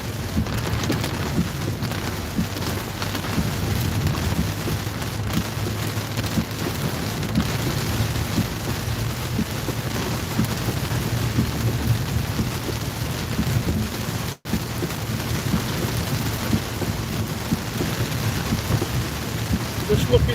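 Heavy rain pours steadily during a thunderstorm over the Lickey Hills in North Worcestershire, with deep rumbling thunder running underneath. The downpour is loud and constant, with one brief dropout near the end.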